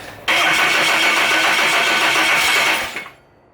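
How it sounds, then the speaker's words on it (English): A Cummins diesel engine swapped into a truck cranks and catches at once, roaring steadily and loudly for nearly three seconds before cutting off abruptly. "finally got the truck running. The engine running."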